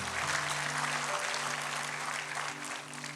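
A congregation at a church service claps heartily in praise of God, a short burst of full, continuous applause with no speech on top.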